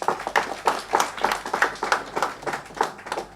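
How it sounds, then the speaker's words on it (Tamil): An audience claps for students at a Tamil gaana music gathering. The claps are steady and rhythmic, spaced roughly evenly, and hold a fairly loud, close, clap-along beat with little talking over it. "அந்த மாணவர்களுக்கு நீங்கள் கைத்தட்டணும்"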